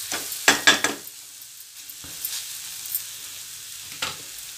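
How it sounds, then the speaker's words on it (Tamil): Masala fries in oil over a slow flame: a few loud stirring scrapes and sizzle bursts near the start, then a quieter steady crackle, with no talk. "ஸ்லோ ஃப்ளேம்லேயே நல்லா 1 2 நிமிஷம் நல்லா குக் பண்ணலாம். மசாலாலாம் நல்லா அப்படியே ஃப்ரை ஆகும்."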